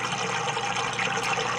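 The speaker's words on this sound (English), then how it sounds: "so I'll start the siphon" Water drains through the standpipe of an indoor aquaponics siphon on a 20-gallon tank, a steady loud rushing gurgle that runs throughout without pause.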